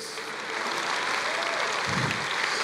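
A church congregation applauds the Lord, a dense, steady wash of clapping from many hands, loud and continuous throughout with no talking.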